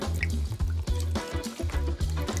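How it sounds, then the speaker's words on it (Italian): Hot water poured into a bucket of food, gurgling and splashing in short repeated bursts with a rhythmic bubbling, close and fairly loud. "E adesso l'acqua calda!"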